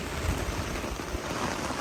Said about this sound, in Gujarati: અત્યારે હાલ ધોધમાર વરસાદ પડી રહ્યો છે પાટણ જિલ્લામાં